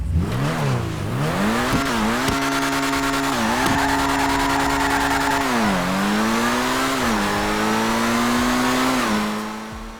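RE7B supercar in GTA 5 driving hard with a loud continuous engine note rising and falling through gear changes, mixed with squealing, skidding tires, close and alone.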